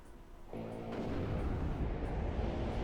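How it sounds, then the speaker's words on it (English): Rocket salvo from an Mi-24 helicopter in the war game WARNO, a sudden loud boom that swells into a sustained heavy rumble of explosions, with no talking. "So that Mi-24 rocket is making a mess"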